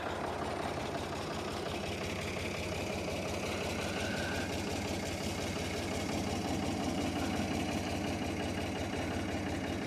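A Ford 3000 tractor engine idles with a steady, low rumbling drone that stays constant throughout, no voices present.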